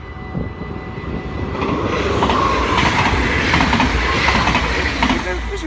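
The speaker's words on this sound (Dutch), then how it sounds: "Ik ben er bang dat we 2 treinen gaan krijgen." A train rumbles past at Maasbracht, a steady loud rolling roar with clattering wheel sounds that builds and holds throughout, close to the listener.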